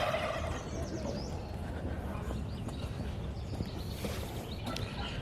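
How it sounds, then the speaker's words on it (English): Turkeys gobble faintly in the distance among outdoor background noise and soft thumping, with a louder burst of gobbling near the end. "We did move the turkeys"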